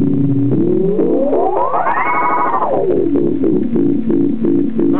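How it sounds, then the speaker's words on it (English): Long echo repeats from a Rebote 2.5 digital analog delay pedal, a guitar note that swoops up and back down and then trails off into a series of evenly spaced repeating echoes, loud and close. "You can set the echoes up and just get some long repeats going."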